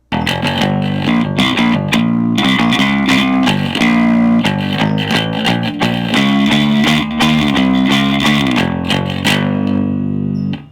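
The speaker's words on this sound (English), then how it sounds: "Or does this long scale bass sound better?" A long-scale bass guitar plays a steady, busy line of plucked notes with rich harmonics, loud and continuous with no talking.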